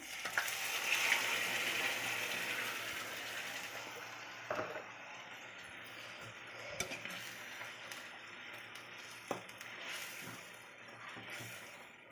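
Boiled mushrooms hitting a hot oiled pan give a steady crackling sizzle throughout, with a few sharp stirring knocks and utensil clinks against the pan.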